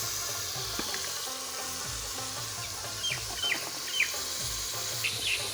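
Tomatoes drop into a pan of frying spices with crushed garlic and ginger for an aloo mooli vegetable dish, a steady close sizzle broken by a few sharp crackling bursts in the second half.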